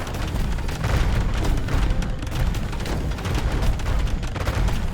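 A continuous rumbling barrage from Mangonel siege weapons in Age of Empires 2, dense overlapping impacts and booms rolling on without pause.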